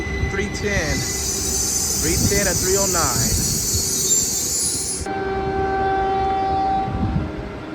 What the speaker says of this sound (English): this train is highballing out of Menlo Park Station